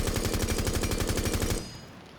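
Rapid automatic gunfire from Sledge's weapon in Rainbow Six Siege, a fast steady burst of loud shots lasting about a second and a half before cutting off into a short fading tail.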